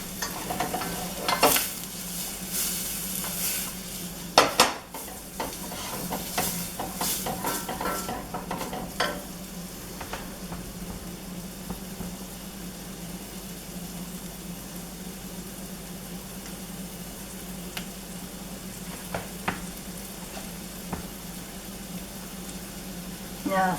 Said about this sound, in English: And cook, stirring until softened,